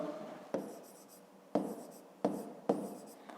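Pen or marker writing out a maths solution, with four sharp onset strokes followed by decaying scratchy scribbling, close and fairly quiet with no talk.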